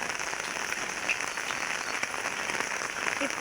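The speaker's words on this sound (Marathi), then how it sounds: "बघा, पाऊस दिसतोय ना" Steady rain falls outside a home during the monsoon, a continuous dense patter and hiss that stays even throughout, fairly close and with no voices.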